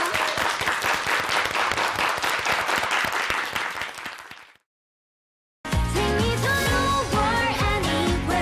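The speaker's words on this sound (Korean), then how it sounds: "두 분 전문가께 박수를 다시 한번" A television studio audience gives a round of applause for two experts on a morning talk show. The clapping is dense and fades out, then after a short silence bright music takes over.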